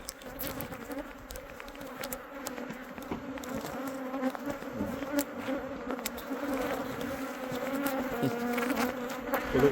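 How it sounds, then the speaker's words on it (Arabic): Honeybees swarming around a hive during a lemon blossom honey harvest, a dense, continuous buzz that stays close and slowly grows louder, with faint clicks from handling the frames. "المهم الاخوان غتشوفوا النحل كيفاش راه غير ما بقاش اللي يدوز ليا"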